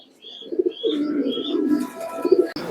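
Fancy pigeons cooing at a breeding farm, including an almond-colored male, soft throaty coos repeating in close, rolling phrases with faint higher chirps, nearby and clear with no talk.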